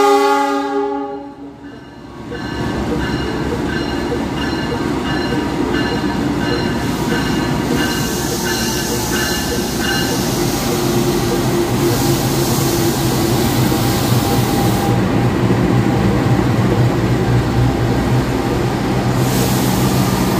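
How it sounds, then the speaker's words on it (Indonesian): A Turangga passenger train rolls past on the adjacent track, loud and close, with a continuous rumble of wheels and carriages lasting throughout and a brief sustained horn-like tone near the start. "Oke, ini dia kereta api Turangga"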